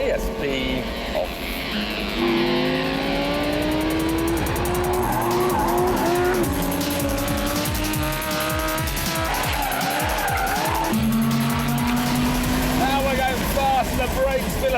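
A Lamborghini Gallardo Spyder, driven with stability control off, revs its engine hard and its tires skid and squeal. The engine runs loud and continuous, rising and falling through the whole stretch, while someone talks over it.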